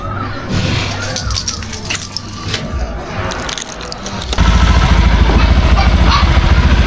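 A Honda Beat scooter engine, checked after a brake lever repair, kicks in partway through and settles into a loud, steady close-up idle, preceded by scattered mechanical clatter and handling noise.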